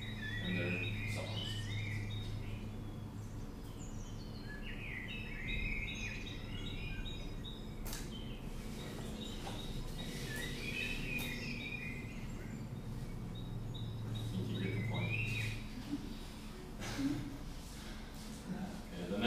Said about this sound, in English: play a small part where you can see just different birds and their songs